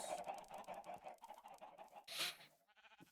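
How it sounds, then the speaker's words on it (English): Chickens cluck and squawk in a farm video game, a busy, overlapping chorus of many birds, fairly close but quiet overall. "Simply so many chickens."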